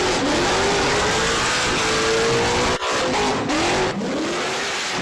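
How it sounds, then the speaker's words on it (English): A car revs hard through a burnout, the engine wailing loud and sustained with rising and falling pitch sweeps and a brief drop near the middle. "This is the second burnout he did that day"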